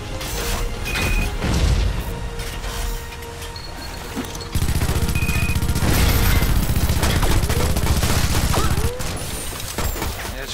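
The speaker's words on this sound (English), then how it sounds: "These grenades are doing some good damage." Grenade blasts and weapon fire in the game Shadow Complex, a dense run of loud booms and crashes with steady gunfire clatter throughout, heaviest in the second half, with a voice talking intermittently underneath.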